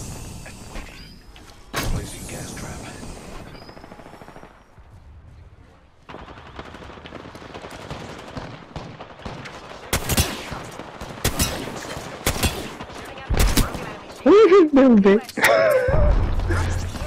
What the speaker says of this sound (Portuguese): os tiros tá meio perto aqui, hein, mano